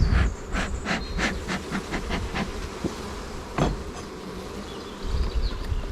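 Honeybee colony in an open production hive hums with a steady, dense buzz, close and loud, joined by a few sharp knocks and taps as hive parts are handled.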